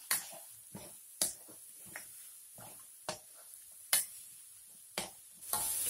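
Oncom with lenca and spring onion is stirred in a pan, sharp spatula clicks and scrapes landing every second or so over a faint sizzle.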